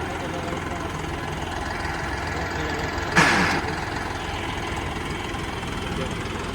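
A John Deere 5075 tractor with a 2900 cc engine idles nearby in a steady, low rumble, rising briefly into a louder burst midway, while people talk over it.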